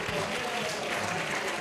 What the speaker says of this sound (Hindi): ताली बजाइए इनके लिए जी